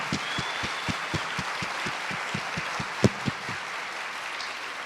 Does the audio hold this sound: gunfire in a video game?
no